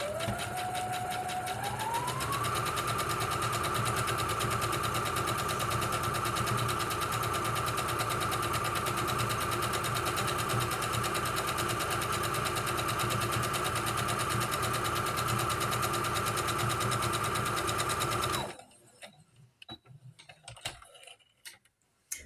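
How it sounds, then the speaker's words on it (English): A sewing machine stitches fabric continuously for about eighteen seconds with a rapid mechanical whir and tick that speeds up at the start, then stops abruptly. "Here's the sewing noise."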